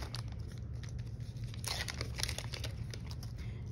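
Plastic packaging around IV tubing is torn and crinkled open while an IV infusion is prepared, giving a close, continuous rustle with sharper crackles in the middle, over a low steady hum.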